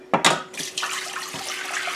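Water pours into a cooking pot after a couple of splashy impacts, settling into a steady close rushing fill.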